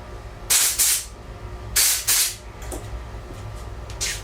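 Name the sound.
compressed air blast cleaning an outboard carburetor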